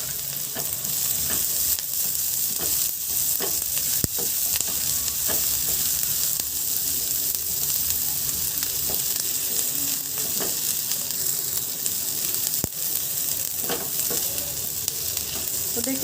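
Onion and a few chopped green chillies fry in a pan, giving a loud, steady sizzle throughout with repeated stirring scrapes and clicks, no voices present.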